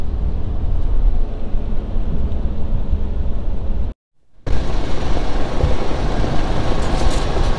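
A Kawasaki Mule utility vehicle with no windshield drives along a farm, a heavy, loud rumble of wind buffeting and engine noise filling the clip, cut by a brief silent gap midway.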